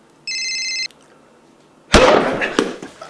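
A telephone ringing with a single short electronic ring burst, followed after a pause by a loud sudden slam and clatter.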